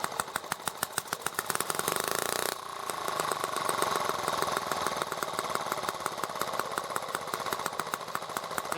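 A small engine runs steadily while its carburetor is being adjusted, giving a rapid, buzzy, continuous firing close by. Partway through the tone shifts a little as the mixture changes, and no one speaks.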